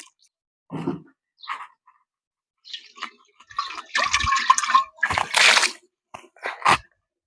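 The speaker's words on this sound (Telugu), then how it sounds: "ఇట్లా కుండల నీళ్లు పోసి పెట్టుకున్న తర్వాత" Water poured into new clay pots, heard as several separate splashing pours with pauses between them, growing fuller and louder in the middle before two short final splashes.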